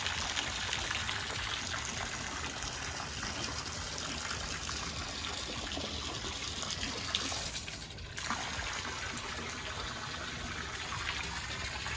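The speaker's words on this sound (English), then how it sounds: "We're filling up the pool" Steady rushing, trickling water runs continuously as it pours into a swimming pool, with a brief dip in the middle.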